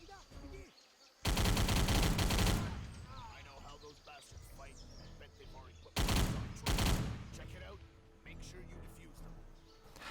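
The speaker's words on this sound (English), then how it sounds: "An enemy will spawn on this machine gun here once you walk past this point, so be sure to pre-aim because machine guns can be pretty dangerous." Bursts of automatic machine gun fire in a first-person shooter mission, two loud sustained volleys a few seconds apart over a steady game background.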